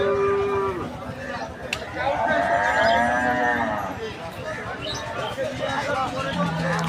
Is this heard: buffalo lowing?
yes